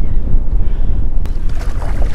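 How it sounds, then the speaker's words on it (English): Strong storm wind buffets the microphone while someone fishes for flounder on the shore near Galveston, Texas, low rumbling gusts with a sharp knock partway through. "Stand up and the air catches, that wind catches you"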